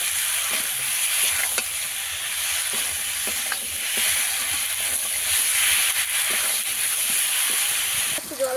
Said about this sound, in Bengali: সব কিছু আবারও ভালো করে কষিয়ে নেব।